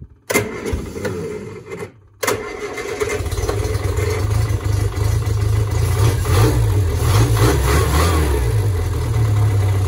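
A 1973 Bond Bug 700ES engine turns over, briefly stalls, then catches and settles into a steady, loud mid-pitched running drone close by, with no voices.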